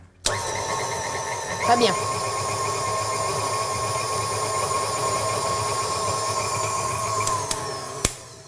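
An electric mixer starts up and runs at moderate speed, beating butter and sugar for a pistachio-raspberry Yule log cake with a steady whirring hum and brief knocks against the bowl. A voice speaks briefly over it.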